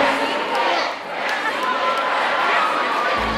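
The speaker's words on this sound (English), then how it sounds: "Crowd's going crazy." Concert crowd at a concert tour stop in Boston, a steady dense roar of many voices, shouting and chatter filling the whole span at fairly close range with no pauses.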